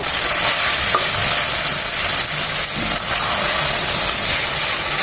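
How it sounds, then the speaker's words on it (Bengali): A paste of turmeric, cumin and dried chili powder mixed with water sizzles steadily in hot oil, a dense continuous frying hiss with faint stirring scrapes, close and loud. "মশলাটা খুব ভালোভাবে কষিয়ে নিতে হবে"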